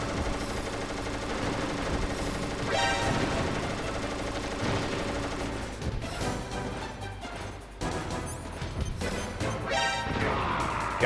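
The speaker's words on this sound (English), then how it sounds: "that Vulcan cannon he's got is dangerous" Vulcan cannon fire in the Metal Gear Solid video game roars in sustained rapid bursts, dense and loud, mixed with crashing impacts and explosions amid the game's background sound.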